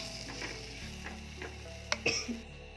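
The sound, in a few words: pepper paste stirred into frying fish curry masala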